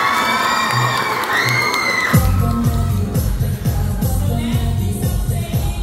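A pageant audience at Mx. Bitoon 2025 erupts into loud, sustained cheering and shouting, whoops carrying over the roar after a brief sustained tone at the start.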